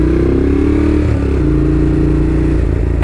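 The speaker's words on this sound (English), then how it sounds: "Gosh, I freaking love that exhaust." A motorcycle's aftermarket exhaust rumbles loud and close, a continuous deep throaty drone with a slight dip in pitch partway through, heard alone.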